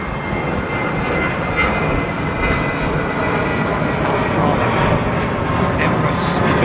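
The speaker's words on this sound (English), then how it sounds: "Emirates departing, Emirates arriving." An Emirates airliner departing or arriving at Heathrow, with a loud, continuous broadband engine roar that holds steady throughout, while voices are faintly present beneath it.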